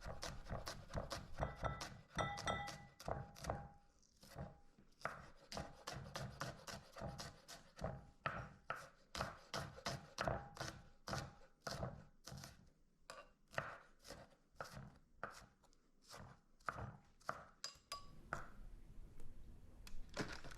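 A knife chops a single shallot bulb on a board in a fast run of crisp, evenly spaced taps, close and fairly quiet, with short pauses between bursts.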